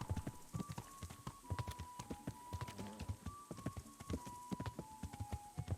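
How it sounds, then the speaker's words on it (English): Horse hooves clip-clop steadily in the Kingdom Come Deliverance video game, a brisk, even rhythm of close hoof strikes with a faint tonal hum running beneath, and no one speaking. "Well, we've got a horse."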